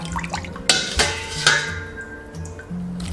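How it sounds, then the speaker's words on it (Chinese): Chicken broth goes into a clay pot holding chicken pieces, corn, carrot chunks and clams. A few sharp clinks against the pot mix with soft splashing and dripping, quiet and close, with no talking. "倒入鸡汤"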